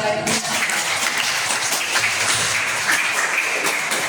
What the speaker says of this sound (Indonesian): Aplaus dong lagi.